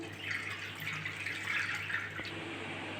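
Cold water trickles and drips steadily off rinsed bila fruit draining in a jar, a soft continuous wet patter with one small sharp drip near the end.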